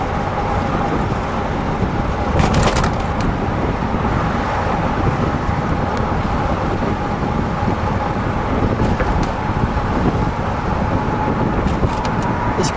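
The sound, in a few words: 1965 Cadillac Eldorado convertible driving with top down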